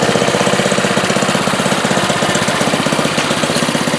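A small doodlebug minibike engine runs steadily nearby, its rapid, even chugging pulses holding a constant loud rhythm from start to finish with no voices.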